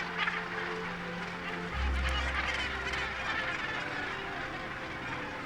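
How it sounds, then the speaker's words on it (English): Cape gannets calling at a huge breeding colony on Bird Island in Algoa Bay, a dense chorus of harsh honking cries with a low rumble over steady background noise. "This is the largest Cape gannet colony in the world."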